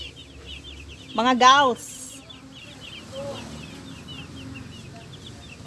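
Chicken chicks peep in faint, rapid high chirps that repeat steadily throughout, while a voice briefly speaks over them nearby.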